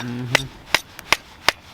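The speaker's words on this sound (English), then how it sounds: "Tap it in. My country hammer." Four sharp, evenly spaced hammer taps drive a sap spout into a tree close by, with a short bit of voice just before the first strike.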